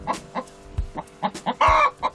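A hen clucks in a series of short, close clucks, with one longer, louder squawk near the end.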